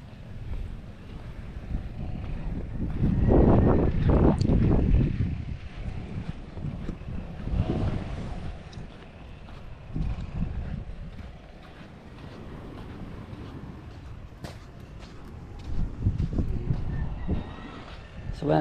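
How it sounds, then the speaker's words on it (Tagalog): Strong gusts buffet the microphone in loud, uneven surges, the roar swelling and fading over an open-water background. "Ang lakas ng hangin."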